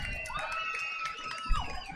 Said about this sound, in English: Crowd gets into it here at Bear River High School